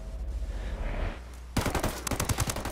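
Video game gunfire as a dense burst of rapid automatic shots starts abruptly midway, loud and close, following a rumbling, murmuring game ambience.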